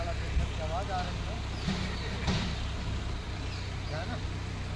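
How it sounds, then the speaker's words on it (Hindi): A tractor engine runs with a rough, rattling drone under continuous talking, the low mechanical rumble holding steady throughout. "ट्रैक्टर की आवाज़ बहुत खराब है।"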